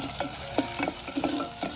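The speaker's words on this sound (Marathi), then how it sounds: "भांडं तापलंय, मी आता त्याच्यामध्ये तेल टाकते" Oil sizzles in a heated clay pot while a Koli-style dried fish dish is cooked, a dense steady hiss broken by sharp crackles and a few scraping stirs, close and continuous, with no voices.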